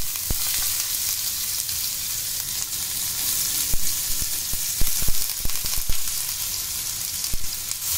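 Onions fry in a pan of oil and ghee with a constant, close sizzle, punctuated by scattered clicks and scrapes of stirring, with no voices.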